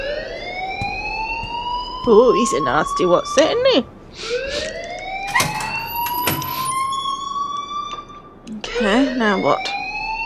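A blaring alarm in the video game Life Is Strange rises in repeated sweeping wails, loud and continuous, while someone talks over it at intervals.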